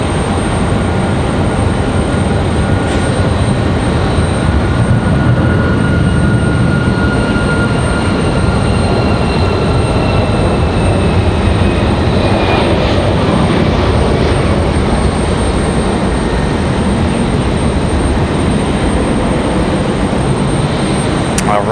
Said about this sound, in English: United and that 737 getting out of here